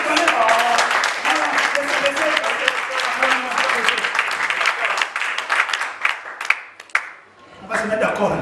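A church congregation claps and applauds steadily, dense and sustained, with voices calling out over the clapping before it thins near the end.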